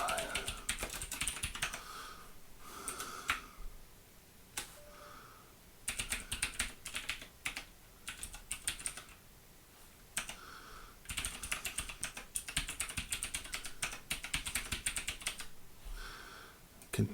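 Typing on a computer keyboard during an Ubuntu 20.04 OEM install, with quick bursts of close keystrokes separated by short pauses and someone talking quietly at times.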